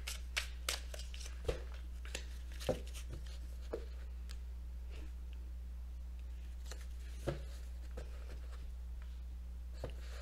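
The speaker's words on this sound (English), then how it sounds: "that's a lot of cards, but I'm going to put them back here" Oracle or tarot cards handled on a table: soft shuffling, sliding and a few sharp taps as cards are gathered and put back, close and quiet over a low steady hum, with no talk.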